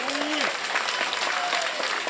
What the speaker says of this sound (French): À nous applaudissons nos camarades.